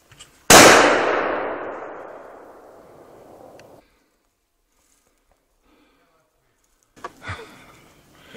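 A single loud rifle shot during a wild boar hunt in Croatia, a sharp crack followed by a long rolling echo that fades over a few seconds, then silence and brief voices.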